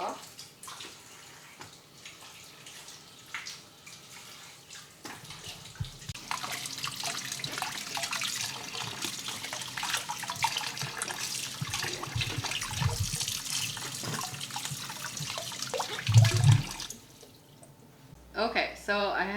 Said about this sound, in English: wash them under cold water and give them a good scrub with my fingers